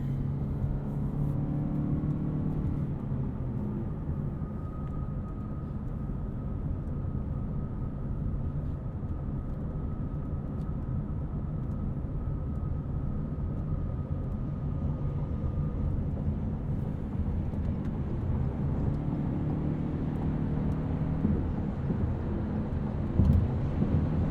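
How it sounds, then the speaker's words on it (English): A 2020 Lexus NX 300h hybrid at highway speed, heard from inside the cabin as a steady broadband road and wind roar with a low engine hum, constant throughout, with no talking. "I'll let you guys hear what the car sounds like at highway speeds"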